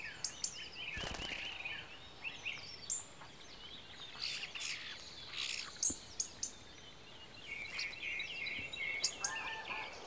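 A large flock of common starlings keeps up busy, faint chirps and whistles over a steady murmur, with scattered sharper calls rising now and then.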